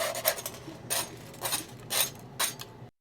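Plastic scraper rasps PETG filament off a 3D printer build plate in five or six short, distinct scraping strokes, close and fairly loud with brief pauses between.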